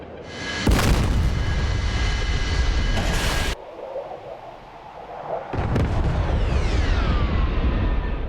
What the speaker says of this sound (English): That's a missile out.